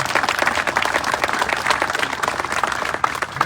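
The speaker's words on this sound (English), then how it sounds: "Let's give them a round of applause." Applause from the audience at a school ribbon-cutting ceremony in Aurora, Illinois, honoring former students and educators; dense, steady clapping from a nearby crowd with brief scattered individual claps throughout.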